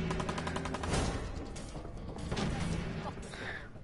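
Rifle gunfire in the video game Fallout 4 comes as a loud, dense burst of shots and mechanical clatter, with a voice briefly speaking over the noise.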